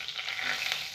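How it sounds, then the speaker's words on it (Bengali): Whole spices, bay leaf, dried red chilli, garam masala, nutmeg and mace, are dropped into hot oil and sizzle loudly for tempering, a bright, close crackle and spit with no talking. "এবার আমি ফোড়নে দিচ্ছি"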